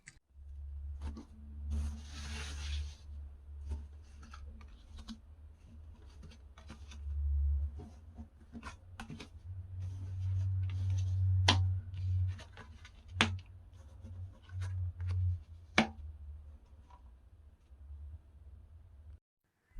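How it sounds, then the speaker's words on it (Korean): Tarot cards are drawn and laid out on a surface, giving soft rubbing and shuffling rustles broken by scattered sharp taps and flicks, close and fairly quiet. "그러면 카드 뽑아 보겠습니다."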